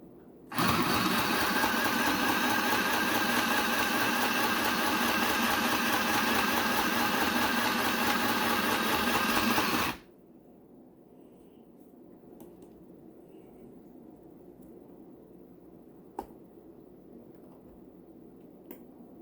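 A small green sewing machine runs steadily stitching a seam, a loud continuous whirring hum that stops abruptly after about ten seconds, leaving quiet room tone with a faint click.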